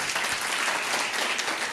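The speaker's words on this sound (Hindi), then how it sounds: "जितने लोग सुन रहे हैं एक बार ताली बजा दीजिए जोर से" An audience claps loudly in unison, a dense, steady roar of applause that fills the whole moment with no voices over it.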